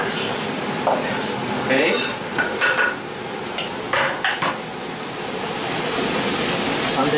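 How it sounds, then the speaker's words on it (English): Tomato goes into a pan of frying pepper and garlic for Spanish paella, giving a steady sizzle with stirring and a few clinks of utensil on pan, and a brief spoken word over it. "We have already cooked a little bit pepper and garlic, and I'm going to put inside tomato."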